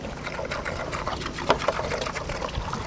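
Water pump running on a barge and pushing water out through a long hose: a continuous rushing, whirring churn with faint splashing, steady and fairly loud throughout.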